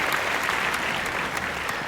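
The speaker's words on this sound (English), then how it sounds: "A huge round of applause for your parents today" A roomful of people claps steadily for the parents at a high school tennis awards gathering, a dense, even patter of many hands sustained throughout without a break.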